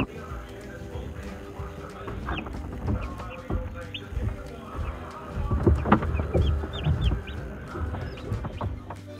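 Newly hatched chicks peep continuously with high calls scattered throughout, clucking and chirping, with a low murmur of voices underneath.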